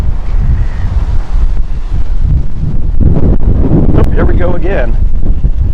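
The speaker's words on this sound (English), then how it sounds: "The bad news is all the wind kicking up this tremendous dust across the region." Strong gusting wind roars and buffets a microphone during a dust storm in Boise, Idaho, a loud, continuous rushing blast, with someone speaking briefly over it.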